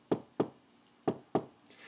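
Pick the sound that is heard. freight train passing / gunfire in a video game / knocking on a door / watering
knocking on a door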